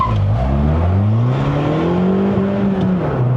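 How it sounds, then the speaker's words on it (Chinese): Suzuki Swift Sport ZC33S with a six-speed manual accelerating hard in a 0-100 km/h run, heard from inside the cabin as a loud, steady engine drone whose pitch climbs and then dips at a gear change. "0到100测试来了。"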